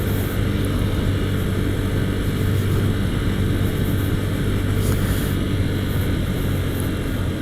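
A Husqvarna Vitpilen 401 motorcycle engine drones loudly and steadily while riding, its hum blended with heavy wind rush and no clear rise or fall in pitch.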